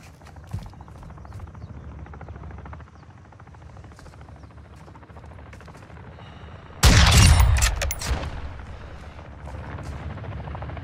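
A helicopter approaches in the Call of Duty DMZ mode on the Al Mazrah map, a steady rotor rumble running throughout, with a sudden loud burst of gunfire or an explosion breaking in partway through.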